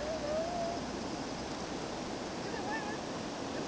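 Whitewater rapids on a river rush in a constant hiss and roar, steady and close, with faint thin tonal chirps drifting over the water noise.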